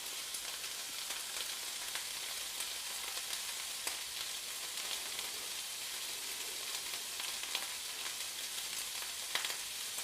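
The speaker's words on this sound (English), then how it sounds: "I think there's something quite heartwarming about the noise of something cooking on the top as well" Homemade vegetable soup cooking on a stovetop gives off a continuous faint hiss and bubbling simmer, steady and even, with occasional tiny pops and no voices.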